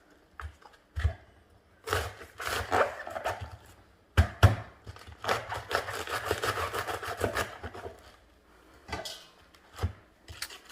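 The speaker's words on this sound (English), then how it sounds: "now I'm going to finely chop cabbage" A knife finely chops cabbage on a cutting board for egg rolls, with quick bursts of crisp, close cutting strokes separated by short pauses.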